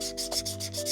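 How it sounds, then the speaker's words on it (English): Short, repeated scratchy rubbing strokes, close up, in a steady back-and-forth rhythm with no voices. "And more sanding."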